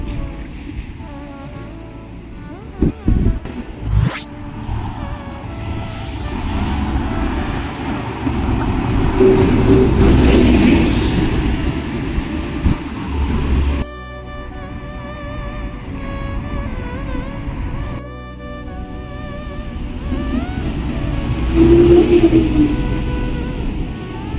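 Road traffic rumbles steadily as heard from inside a moving vehicle, a low continuous drone that swells and eases with passing sounds, with no voices.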